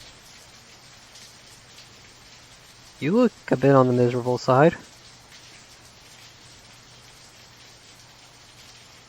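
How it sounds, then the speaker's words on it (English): Steady rain hisses in the video game Angels with Scaly Wings, a constant wash of falling drops throughout, with a voice speaking briefly over it midway. "It's raining."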